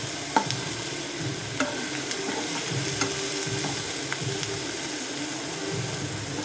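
Carrot and capsicum stir-frying in a pan for Manchurian noodles, a steady sizzle with a few sharp utensil clinks against the pan, no voices.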